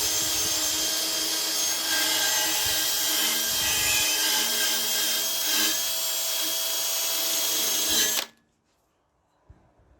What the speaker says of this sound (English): Just going to go with the wire brush on the drill.